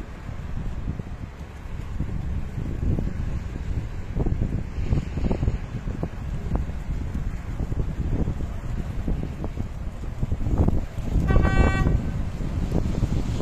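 A short vehicle horn honk, a signal during a tandem launcher operation on the Jakarta-Bandung high-speed rail project, stands out near the end over a constant windy rumble and low engine noise.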